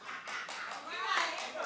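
A studio audience on a daytime talk show claps briefly, a soft scattered patter of hands mixed with murmuring voices and a few calls.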